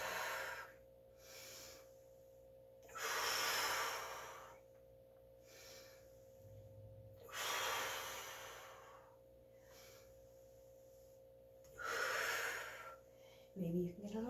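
Slow, deliberate breaths in and out during a Pilates workout, four long audible airy pulses spaced a few seconds apart, close and soft over a faint background hum, with no talking.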